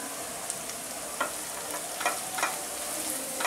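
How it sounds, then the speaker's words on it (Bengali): Ground cumin, coriander, turmeric and red chili powders fry and get stirred in a pan for Bangladeshi bhuna khichuri, giving a steady soft sizzle with a few scraping stir strokes at intervals and no talking. "মশলাগুলো ভালো করে কষে নিতে হবে।"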